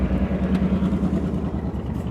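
Idling steadily and close by, a hot, smoking 1964 Chevrolet Impala wagon engine gives a low, regular pulsing rumble with an even lope.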